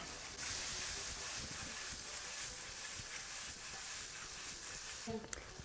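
Champignon mushrooms and garlic fry in a pan with coarse salt and black pepper, giving a steady soft sizzle and hiss that runs evenly, ending with a brief clatter.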